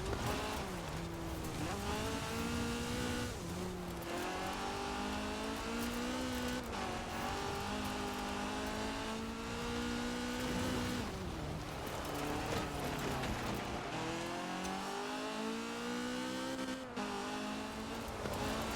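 A Ford GT70 driven off-road in the video game Forza Horizon 4 gives a continuous, loud engine drone that climbs and falls through gear shifts, with occasional tire noise and no talking.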